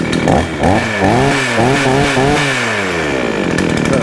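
A Baumr-Ag GCS6200 chainsaw engine runs loud and close, its pitch swelling and dipping through a series of small revs around idle, with no voices.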